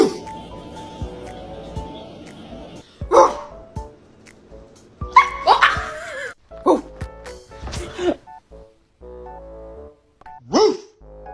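A person imitates a dog's barking with loud, repeated woofs, interspersed with bursts at irregular intervals while another voice is briefly heard in the background.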